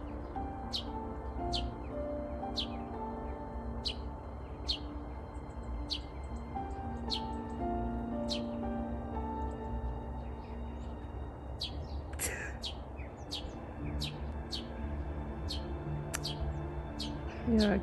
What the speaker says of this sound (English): There's a bird somewhere.